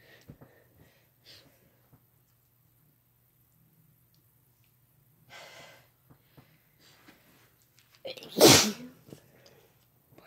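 Quiet room with faint breaths and brief soft sounds, then one loud, sharp sneeze bursts near the end, close and much louder than everything before it.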